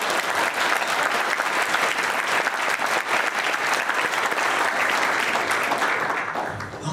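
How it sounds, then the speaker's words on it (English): Dense audience applause during a public talk on a state development plan, a loud, continuous wash of clapping from a large crowd that tapers slightly at the end. "I think we should have a round of applause for that"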